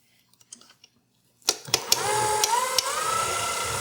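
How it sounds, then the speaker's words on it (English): A small electric hand mixer switches on after a few soft kitchen clicks and then whirs steadily, creaming a small batch of lemon cookie dough with occasional clattering knocks against the bowl. "that's why I pulled out the little baby mixer"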